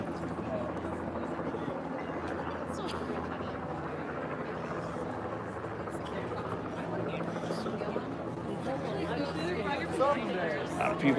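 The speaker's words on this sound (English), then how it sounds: "I don't know if you can hear those helicopters." Helicopters hover above an outdoor presidential campaign rally at Frank Ogawa Plaza in Oakland, a constant droning buzz under crowd chatter that grows slightly louder near the end.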